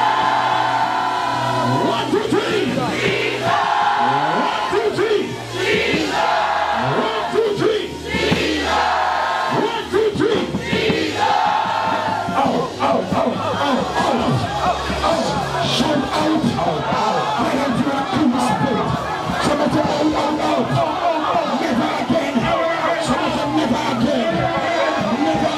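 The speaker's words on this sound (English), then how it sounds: "shout the name of Jesus over her and watch God set her free from this demonic power" Church congregation shouting the name of Jesus together during a deliverance service, a loud massed crowd roar that stays dense and sustained throughout, with mixed voices overlapping.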